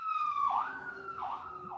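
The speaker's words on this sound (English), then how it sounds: "Someone's got sirens." An emergency siren wails from some distance, its tone sweeping up and down in repeated cycles, moderately faint over quiet outdoor background.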